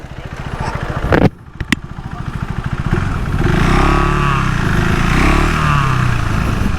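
A KTM 390 SMC R single-cylinder motorcycle in sport mode, its engine thumping at idle, cutting out briefly, then revving up loud and close into a sustained higher-pitched drone, with a voice heard over it.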